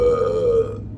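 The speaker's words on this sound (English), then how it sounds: "burp for the vlog." A single short, deep burp from a person, loud and close, lasting under a second and fading out at the end.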